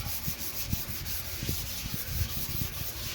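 Sandpaper of 150 grit rubs back and forth over the head of an old Pulaski mattock, a soft, close, continuous scratchy rasp with faint rhythmic strokes.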